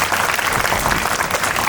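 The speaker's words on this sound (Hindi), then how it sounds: "एक बार जोरदार ताली बजा माहौल दो" Loud, dense applause from an audience filling a coaching-institute event hall, steady clapping sustained throughout with no gaps.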